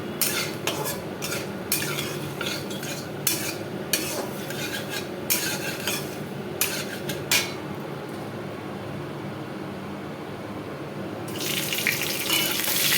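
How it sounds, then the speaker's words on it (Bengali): Spiced vegetables for a pui shak (Malabar spinach) dish are stirred in a pan over a low flame, giving a run of irregular scraping and clinking strokes over a steady background, ending in a brighter hiss. "এই দেখো মশলা দিয়ে দিয়েছি। এবার ভালো করে এটাকে একটু নাড়াতে থাকবো।"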